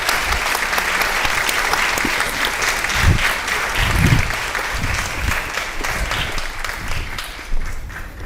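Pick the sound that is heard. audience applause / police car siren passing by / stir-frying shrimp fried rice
audience applause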